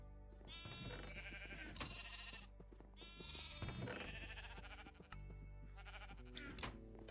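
Many sheep bleat in the Minecraft Voltz video game, with overlapping, repeated calls close by and loud throughout, some cries layered on top of each other.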